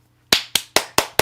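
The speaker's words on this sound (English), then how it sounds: "can we have a round of applause for a producer dad?" Five sharp, evenly spaced hand claps ring out close and clear after a quiet moment, a brief bit of applause during a virtual music recital.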